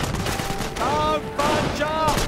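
Bursts of rapid gunfire in the World War II strategy game Company of Heroes, Operation Market Garden campaign at Oosterbeek, crackling under voiced unit radio chatter.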